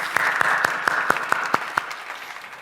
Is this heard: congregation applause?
yes